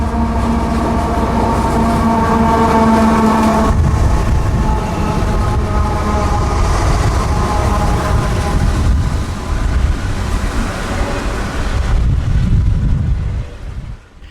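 CSX intermodal freight train Q046 rolls past at South Lakeland, Florida, a loud, steady, close rumble of wagons with a sustained horn-like tone early on, fading toward the end.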